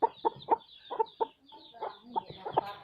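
A fighting rooster clucks in a quick, uneven series of short, close calls, a dozen or so in under three seconds, with no talking.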